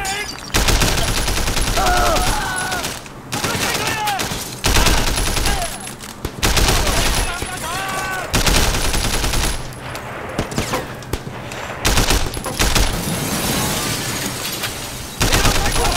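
Gunfire in the video game Sleeping Dogs, bursts of rapid automatic shots and loud volleys crackling through much of the stretch, broken by brief pauses, with a voice occasionally talking over the shooting.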